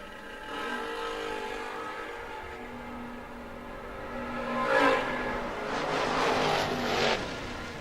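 Camaro race car running a lap at a no-box drag racing event: a steady, distant engine drone with a sustained tone that swells into a louder passing roar midway, then eases off.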